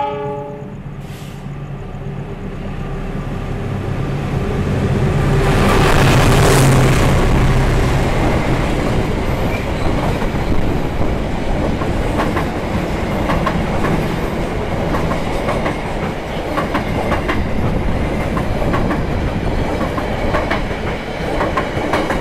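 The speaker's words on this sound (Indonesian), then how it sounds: "Saat ini perjalanan kereta api Pangandaran sudah meninggalkan Stasiun Nagreg ya." A Pangandaran passenger train runs along the rails with a steady, loud rumble and rhythmic clickety-clack of wheels, opening with a sustained horn blast before the rolling noise takes over.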